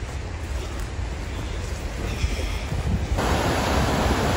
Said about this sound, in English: remember that big waterfall, the bath shower we showed you last night? There it is, coming out of a hole in the wall.